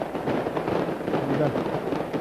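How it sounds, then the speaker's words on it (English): Fireworks at a rugby league stadium before a Leeds Rhinos match, a dense continuous crackle and popping over the crowd's roar, with a commentator talking over it. "And a great brace of fireworks, as you can probably hear there."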